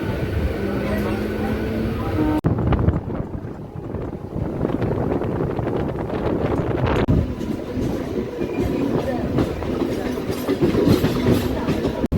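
Local train running on the line from Panskura toward Digha, a loud steady rumble with rhythmic wheel clatter and wind buffeting from inside the carriage, with a brief sharp jolt partway through.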